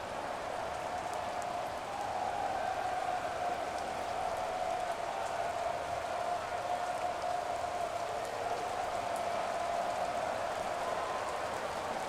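Steady, dense rain hisses throughout a rainy-weather football game in Madden NFL, a constant even wash of drops with no pauses.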